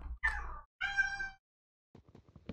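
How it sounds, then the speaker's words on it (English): A house cat cries out with two drawn-out, plaintive meows close by, followed by a few faint soft clicks and rustles in an otherwise quiet room. "my cat will not stop crying"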